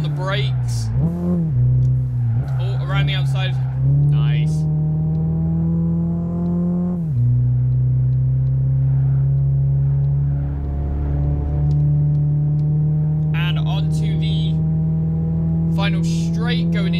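Toyota Vitz racing in Gran Turismo 5, a steady, loud engine drone that holds a constant pitch through corners, with a few quick rises and drops as it shifts, while someone talks over it.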